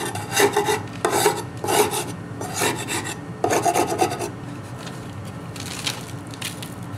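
A hive tool scrapes old attached comb off the inside walls of a wooden beehive box from a dead colony, in several rasping bursts of rough scraping with short pauses, close and fairly loud, no talk.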